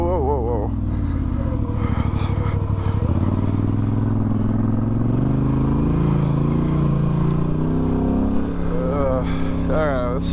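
An ATV engine drones steadily and loudly throughout while riding a desert trail, with bumpy clatter and changing revs as the machine works over rough ground; a voice speaks briefly over the motor.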